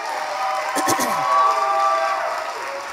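A crowd at a campaign event in Los Angeles cheers and whoops briefly, a swell of voices rising and fading in a large room.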